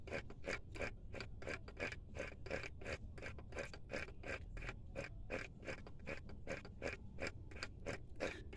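A Melling high-volume oil pump is turned by hand while being packed with grease, giving a steady run of rhythmic rasping clicks, evenly spaced and close.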